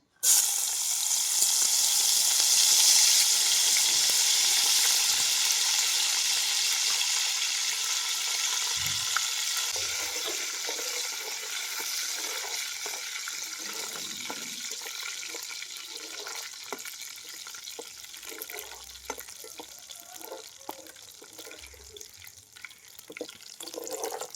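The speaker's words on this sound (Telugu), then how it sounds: "ముందుగా అయితే రొయ్యలు అయితే వేపుకుంటున్నారండి" Prawns frying in hot oil give a loud, bright sizzle at first that slowly settles into a steadier, softer crackle, with occasional stirring clinks close by and no talking.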